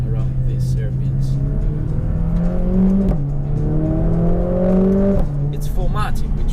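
A Mercedes-AMG A45 S 4MATIC hot hatch engine revs through hairpin mountain roads, its pitch climbing steadily, dropping at gear changes, then rising again in repeated loud pulls heard from close by.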